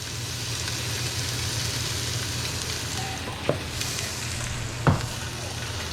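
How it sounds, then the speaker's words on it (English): Pork for carnitas sears in an Instant Pot with a steady close sizzle and a low hum underneath, interrupted by two brief clanks. "the first thing, you want to sear it a little bit"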